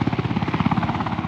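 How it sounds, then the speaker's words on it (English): UH-1 Blackhawk helicopter flying over South Dakota flooding on sandbag delivery runs, its rotor beating in a fast, steady, loud rhythmic thump with engine whine underneath, close and continuous with no talk. "We're delivering them with the UH-1 Blackhawk helicopters to the incident."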